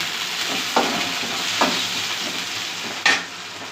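Curry leaves hit hot oil with onion for a spicy fish curry, giving a loud, steady sizzle broken by three sharp taps of a spoon against the pan.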